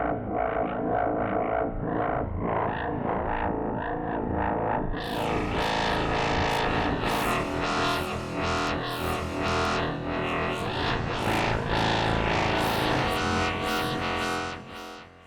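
Thick, buzzing Zebra 3 synthesizer chord built from four detuned voices, sustained and loud, brightening partway through before fading at the end.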